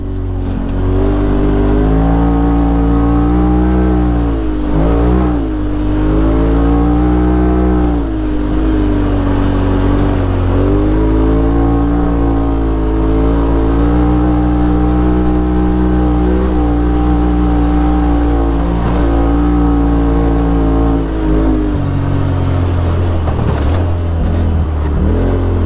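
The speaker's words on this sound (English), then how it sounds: "Taylor has his clutch dialed in now, so he's able to get his RPMs up" A 2018 Polaris RZR XP Turbo Dynamix UTV with a tuned clutch revs hard on 32-inch BFG KM3 tires at 10 PSI, its loud engine rising and falling in steady sustained pulls close to the mic, easing off near the end.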